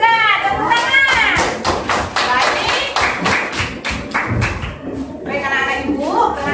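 Schoolchildren in a classroom clap in unison in quick, rhythmic bursts that rise then taper off, with a teacher's voice speaking before and after the applause.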